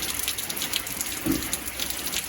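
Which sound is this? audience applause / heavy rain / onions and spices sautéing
heavy rain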